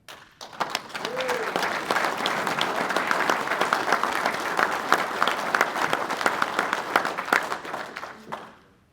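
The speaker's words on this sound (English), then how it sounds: "Good applause, good recognition, well deserved" A conference audience applauds an honoree receiving a service award during a morning session, sustained clapping that rises quickly, holds steady and fades out near the end.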